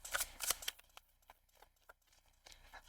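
A tarot card deck being shuffled, with crisp riffling bursts of card noise at the start, then quieter scattered flicks and taps, close and fairly faint with no talking.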